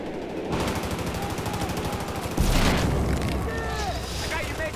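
Rapid MG4 machine gun fire bursts in Battlefield 4, loud and continuous, with booming impacts and voices talking over the shooting.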